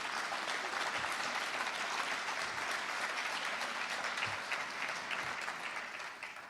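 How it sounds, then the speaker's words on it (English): Sustained applause from an audience at Seattle's State of the City address, a dense even clapping wash heard from a distance that thins slightly toward the end. "And I'll clap on that one myself"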